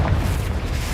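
A Confringo blast spell from Hogwarts Legacy erupts as a loud, deep boom, with heavy low-end rumble sustained through the whole second and no voice over it.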